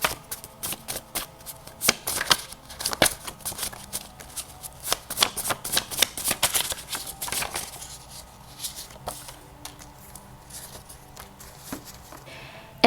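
Tarot cards are shuffled by hand in rapid, crisp riffling bursts and flutters. The sound is close and fairly loud, heaviest in the first half and then thinning into lighter, sparser shuffles, with no voices.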